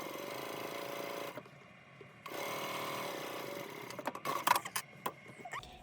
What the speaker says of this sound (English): I'm not even gonna bother pinning it or clipping it. I'm just gonna sew it.